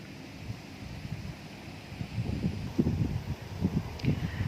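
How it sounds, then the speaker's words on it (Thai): Strong evening wind sweeps over a clifftop campsite at Pha Daeng, Ta Phraya National Park, heard as a steady low rush that grows into rougher, louder gusts in the second half, with no voices. "พอตกเย็นนะคะ ลมค่อนข้างที่จะแรงค่ะ"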